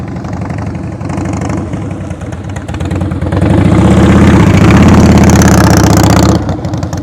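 A motorcycle engine during slow-speed riding practice, a loud close idle that rises into a steadier revving drone for a few seconds, then drops back toward idle.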